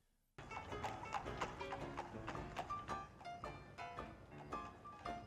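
Horse hooves clip-clopping in a steady rapid rhythm from a period TV drama scene, close and clear with a snort or whinny mixed in, no talk over it.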